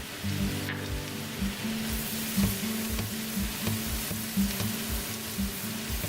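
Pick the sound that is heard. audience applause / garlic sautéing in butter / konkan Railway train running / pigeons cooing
garlic sautéing in butter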